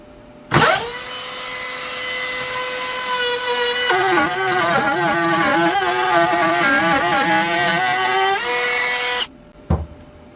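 An electric router cutting wood for a workbench build: the motor spins up to a steady, loud whine, then wavers and dips under load through the cut. It winds down near the end, followed by a brief knock.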